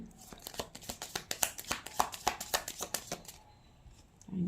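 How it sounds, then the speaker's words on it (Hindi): Tarot cards are shuffled by hand close up, producing a quick run of crisp riffling snaps and flicks that fade out after about three seconds. "इतने सारे तो मैं नहीं ले रही हूँ, वापस से मैं शफल करती हूँ"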